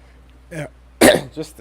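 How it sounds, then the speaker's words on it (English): A single harsh cough bursts very close to the microphone, framed by a few brief vocal sounds just before and after. "Sorry, I coughed right into the mic."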